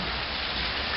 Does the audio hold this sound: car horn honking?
no